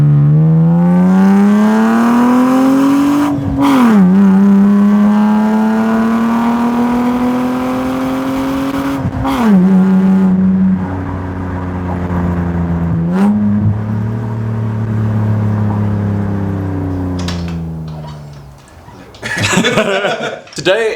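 A car with a modified exhaust revs repeatedly outdoors, each loud rising-and-falling sweep of engine note separated by brief pauses, closing with a few short bursts.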